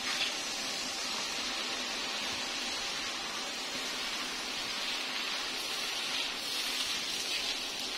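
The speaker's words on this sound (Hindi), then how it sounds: "ये हाफ कप से ज्यादा पानी ले लिया है, तो इसको इसमें ये मैं डाल दूंगी" Water poured into a pan of masala fish curry with yogurt, giving a steady broadband hiss and gush that runs evenly for the whole stretch, close and moderately loud with no talk over it.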